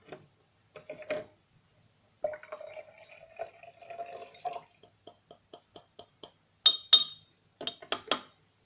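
Hydrogen peroxide is poured into a glass jar and mixed with a glass stirring rod, producing a short trickle followed by a series of light, separate clinks and taps against the glass, some sharper and brighter near the end, in a quiet room.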